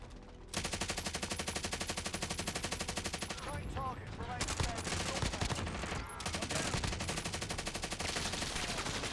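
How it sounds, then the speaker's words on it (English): Sustained automatic gunfire in Call of Duty Warzone Rebirth Resurgence, a loud, rapid stream of shots that runs nearly unbroken for the whole stretch with brief dips, plus a few faint voices underneath. "I'm being shot from in front, right?"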